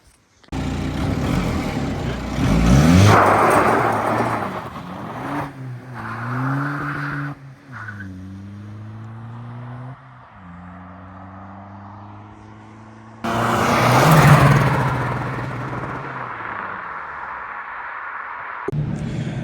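RWD Ford Capri fitted with a VW PD130 diesel launching hard: a loud engine roar builds with tyre scrabble, then climbs through several rising gear pulls with brief dips between shifts, followed by another loud surge near the end.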